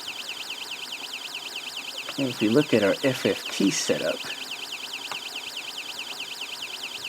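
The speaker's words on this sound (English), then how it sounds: "it's producing audio from our alarm IC based on its current setup here" Snap Circuits alarm IC producing a continuous electronic tone that sweeps rapidly up and down in a repeating sawtooth pattern, steady and clear throughout while someone talks over the middle portion.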